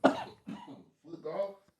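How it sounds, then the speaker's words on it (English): Three short, rough coughs close to the mic, each a separate burst with brief gaps between them. The middle cough is the softest. "Made me cough."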